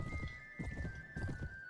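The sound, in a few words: horse galloping through city streets in Mount & Blade Warband video game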